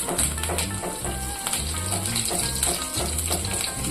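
Mustard seeds and curry leaves crackle and sizzle in hot oil in a kadai, a loud, dense frying hiss with sharp popping bursts throughout, heard up close with no talking.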